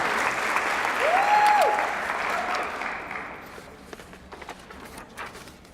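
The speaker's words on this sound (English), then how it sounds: "Nice round of applause for 10th grade." An audience at a school academic achievers ceremony applauds 10th grade students, steady clapping that swells and then thins out toward the end, with a brief tonal whistle-like sweep early on.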